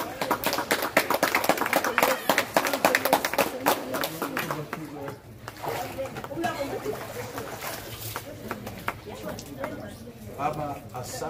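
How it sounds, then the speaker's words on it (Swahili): A congregation in church claps right after a baptism, with dense bursts of applause in the opening seconds that thin out as voices carry on talking and calling out. "Makofi."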